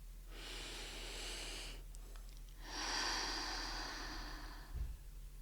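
A slow, deep inhalation through the nose during a calm seated breathing exercise, a soft airy hiss that rises and swells, pauses briefly, then draws in again, close and quiet against a low steady hum.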